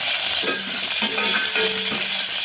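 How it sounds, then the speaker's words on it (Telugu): Cumin, mustard seeds and green chillies spluttering in hot oil, a steady bright crackle throughout with a few louder pops and stirring scrapes over a couple of seconds, close and fairly loud with no talking. "ఇప్పుడు జీలకర్ర ఆవాలు వేసుకుందాము. చిటపటలాడుతున్నాయి కదా, పచ్చిమిర్చి వేసేస్తాం."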